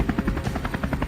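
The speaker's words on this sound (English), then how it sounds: "Helicopters roared overhead, splitting up to scour the terrain for targets." A helicopter flying low overhead during a wild boar hunt over open fields, its rotor giving a loud, rapid, steady chopping pulse close by, with no talking.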